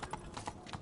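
Horse hooves clip-clop in a quick galloping rhythm, about six close thuds in under a second, in The Witcher 3: Wild Hunt.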